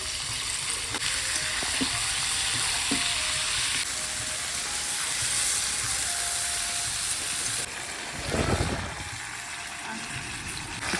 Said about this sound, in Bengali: এই দেখো মাংসটা কষানো হচ্ছে